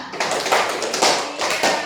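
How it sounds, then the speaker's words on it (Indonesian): A short burst of classroom clapping at a school, several hands together in a quick, slightly uneven rhythm, close and fairly loud. "berikan tepuk tangan dulu kepada Amran."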